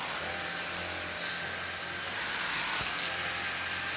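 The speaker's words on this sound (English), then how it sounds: "This is a Dyson V8, I think." A Dyson V8 cordless vacuum cleaner runs continuously with a steady, close, high-pitched motor whine and airy rush, holding an even level throughout.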